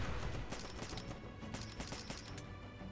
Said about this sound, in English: Oh, Jeff, they're shooting